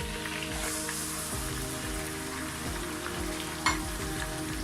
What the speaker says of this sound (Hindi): अब मैं इसके अंदर चिकन ऐड कर दूँगी